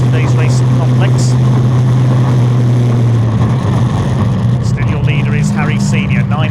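Caterham race cars circuit Thruxton in a CGRC race, a loud sustained engine drone with shifting pitch as cars pass close by, under continuous commentary.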